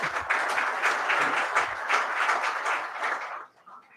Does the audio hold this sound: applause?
yes